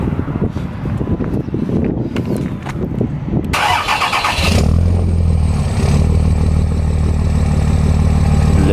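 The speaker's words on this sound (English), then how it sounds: "let him record a cold start for the truck" A cold-started truck engine cranks briefly and catches, then settles into a loud, steady, rumbling idle close by, with no talk over it.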